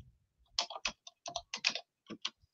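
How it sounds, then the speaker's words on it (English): Quick bursts of key clicks on a computer keyboard, a short run of typing with brief pauses between clusters, close and clear against a quiet room. "I'm gonna type it for you guys."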